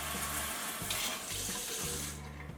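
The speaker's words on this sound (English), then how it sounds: "It's just my go-to faucet." Water runs steadily from a kitchen faucet into a sink while dishes are washed, a continuous close splashing rush with slight pulsing changes in flow.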